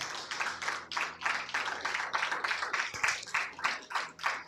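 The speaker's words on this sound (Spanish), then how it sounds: "Alguien dele un aplauso fuerte al Señor." Rhythmic clapping from a crowd, steady and energetic, a few seconds of applause with no talking.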